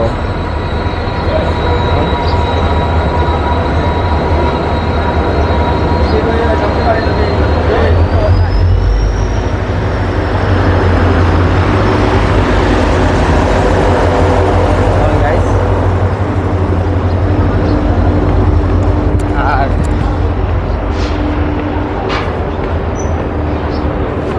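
The 13176 Kanchanjunga Express rolls into platform 2 of an Indian station, a loud steady rumble of wheels and carriages with faint squeals, heard up close beneath someone talking throughout.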